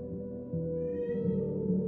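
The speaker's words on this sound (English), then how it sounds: "JJ's cat meowing." A house cat meows loudly during a livestream, one drawn-out rising and falling cry heard close and alone over a steady low room hum.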